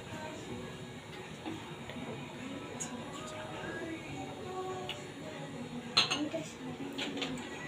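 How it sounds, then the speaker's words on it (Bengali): A spoon stirs Vestige calcium powder into water, giving a run of small clinks and scrapes against the container with one sharper knock near the end, all over steady room noise. "এবার এটাকে একটু চামচ দিয়ে গুলে নিচ্ছি"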